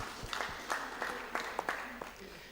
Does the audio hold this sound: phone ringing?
no